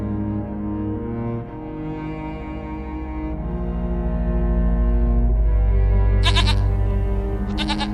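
A goat bleats in a long, wavering cry that swells louder, followed by a couple of short bursts of a higher, rattly sound near the end.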